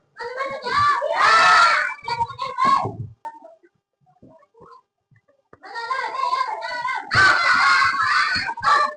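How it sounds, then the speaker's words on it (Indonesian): A class of young children at a primary school claps together in two bursts of applause, with lively cheering and shouting mixed in and a short quiet pause between the bursts. "Tepuk tangan dulu untuk semua."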